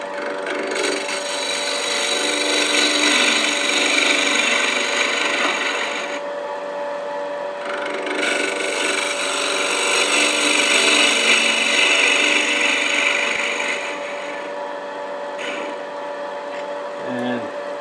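A blunt bowl gouge cuts across spalted wood spinning on a lathe, giving a steady loud scraping rush with the motor's hum underneath, swelling and easing in long passes close by.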